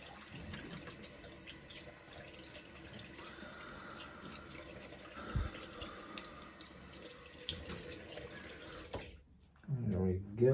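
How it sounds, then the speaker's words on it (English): A bathroom tap runs for a cold-water face rinse after shaving, a steady soft stream with splashes and hand movements, ending in a few louder knocks and clatters. "Nice cold water rinse here."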